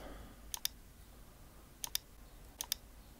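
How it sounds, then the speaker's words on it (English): Mouse clicks while selecting clips in Flame editing software, arriving in three quick pairs of crisp, close clicks over a quiet background. "you need to press Control and click on the clip you want to import"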